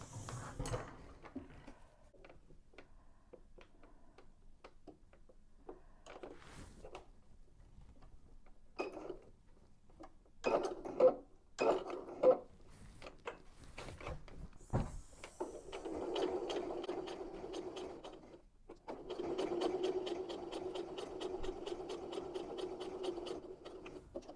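Sewing machine back stitching around the edge of a fabric-scrap handbag, a steady mechanical whirr in bursts that stop and start, with short clicks and handling noises between runs.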